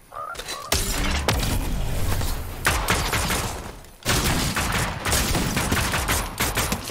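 Repeated combat pistol gunshots in Fortnite ring out loud and close, firing in quick successive bursts with brief pauses between volleys.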